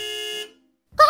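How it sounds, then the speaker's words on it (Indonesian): A car horn in the video game Sakura School Simulator gives one loud, steady honk of about half a second, then stops; a voice begins just after. "Kalau gak sabar, klakson-klakson terus."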